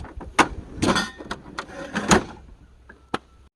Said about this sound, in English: it's got the 90 kilo rated locking drawer slides from Bunnings